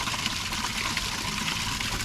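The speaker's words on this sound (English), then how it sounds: "Little waterfalls." Small waterfalls trickling into a large leafy pond at a hillside temple garden in Cebu City, a soft continuous wash of running water heard alone without voices.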